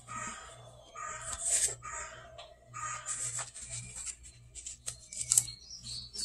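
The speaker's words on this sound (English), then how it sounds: "if you wonder what the bird sounds are, I play bird videos for Olivia" Recorded bird calls and chirps played from a video, in bursts, with caw-like notes and high twittering, over a low steady hum in the background.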